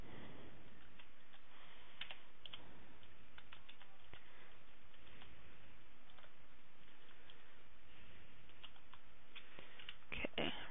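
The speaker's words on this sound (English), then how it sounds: "you're going to want to type in net user administrator slash active colon" Computer keyboard keys tapped in a quick, uneven patter while entering a Windows Vista command, close and fairly soft, with someone talking over it.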